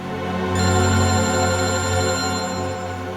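A telephone rings with a steady electronic tone, loud and close, holding one sustained ring with no talk over it.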